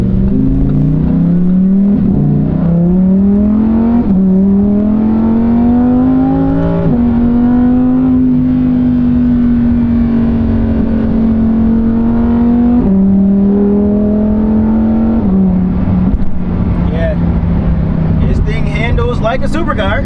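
A Lamborghini Huracan supercar accelerates on the road, its engine loud and close and climbing through repeated rising pulls broken by gear shifts, with a brief burst of higher engine noise near the end.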